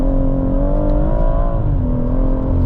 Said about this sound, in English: you can flatten the throttle and it doesn't feel scary